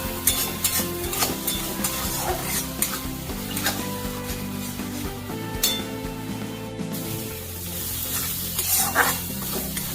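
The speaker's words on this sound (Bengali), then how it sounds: "মশলাটা খুব ভালো করে কষে নিয়েছি। দেখো মশলা দিয়ে তেল ছেড়ে গেছে।" Spice paste (masala) sizzles and fries in oil in a pan for a fish curry, with a steady crackling hiss and a spoon scraping and clinking against the metal as it is stirred.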